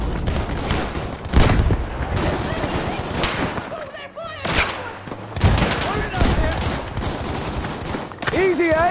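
A Type 11 light machine gun fires in Battlefield 5 multiplayer: rapid bursts of loud gunfire amid other combat shots and booms, with voices shouting over the noise.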